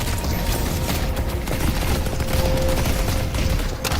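Continuous rapid firing from a turret in the video game Deadlock, a steady dense stream of shots mixed with game effects at a constant loud level.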